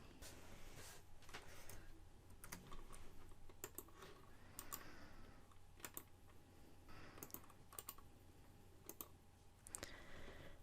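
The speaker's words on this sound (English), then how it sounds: "I'll type this in here quickly" Someone types on a computer keyboard in irregular bursts of crisp key clicks with brief pauses between, close but quiet, with no one speaking.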